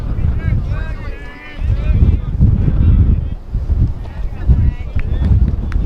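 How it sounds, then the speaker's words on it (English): Strong gusting wind buffets the crowd microphone at a high school baseball game, a continuous low roaring rumble that swells and dips throughout, with a commentator's voice talking over it. "Winds are gusting well over 30 here today. You can hear that in the crowd mic."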